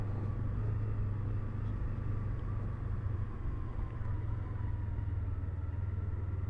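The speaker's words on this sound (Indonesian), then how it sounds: "ke kantor naik motor." A Yamaha MT-25 motorcycle rides along on the way to the office, its engine a steady, low, droning rumble heard throughout with constant road noise and no speech.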